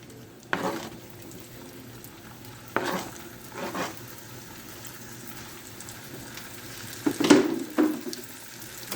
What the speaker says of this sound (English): So we have the bacon grease, and to this I am going to add my smoked sausage.